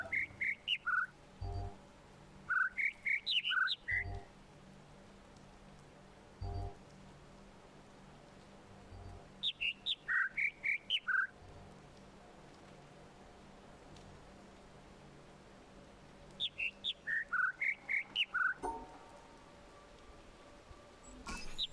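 Two birds in The Witness puzzle game trade repeated bursts of high whistled notes, one singing a four-note phrase and the other a longer run, recurring several times over a quiet background.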